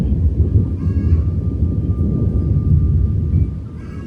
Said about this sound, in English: Do y'all hear that thunder?